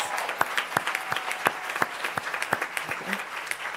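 Applause from the audience at a board meeting, a steady patter of many hands with sharp individual claps standing out, moderately loud and continuing without pause throughout.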